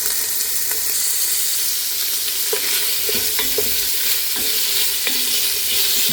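Rotisserie chicken for jambalaya frying in a pan, a loud constant sizzle with occasional scraping stirs and small pops throughout.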